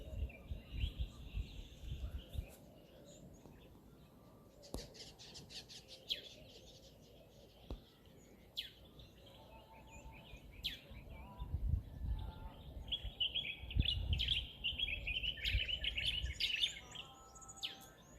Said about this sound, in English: But you hear that singing came from these birds, beautiful birds.